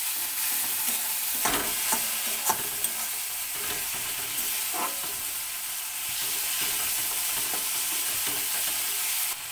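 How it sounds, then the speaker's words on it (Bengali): A spice paste of cumin, coriander and ginger with a little sugar is stir-fried in a pan for a rohu fish curry. Steady hissing sizzle runs throughout, broken by sharp scraping spatula strokes, with no voices. "এরপর আমি মশলাটাকে ভালো করে কষিয়ে নেব।"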